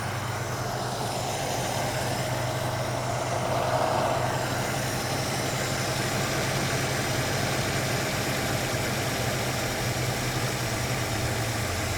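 A Ford Capri Mk I 3000 GT XLR engine idles steadily during carburettor mixture adjustment, a constant low rumble with a slight swell in the middle, close and alone.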